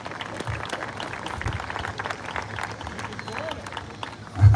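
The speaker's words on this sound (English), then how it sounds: "give yourselves a round of applause" Outdoor crowd at an ice cream social giving a round of applause, steady moderate clapping mixed with crowd murmur throughout, rising slightly at the end.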